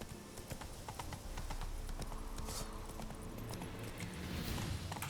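Roach the horse gallops in The Witcher 3, a steady, fast clip-clop of hooves running through the whole stretch at close range with a constant game-world background bed.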